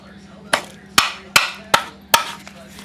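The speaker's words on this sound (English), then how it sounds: "just took the hammer and gave myself a nice solid whack here" A hammer strikes a ball joint on a 2000 Montana five times in a steady rhythm, each sharp metallic whack ringing briefly before the next, close and loud.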